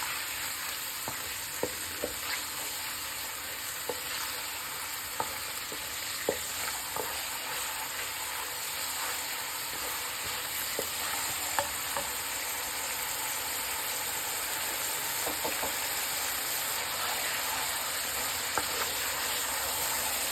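Chicken, potato and cauliflower with a tomato and onion masala fry steadily in a pan, a constant sizzle with a few light clicks of a spoon scattered throughout.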